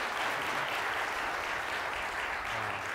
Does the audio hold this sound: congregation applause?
yes